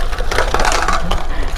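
Wheels roll over acorns and dry leaves on an outdoor path in St Augustine, a close, continuous crunching and crackling with scattered sharp pops as nuts break underneath.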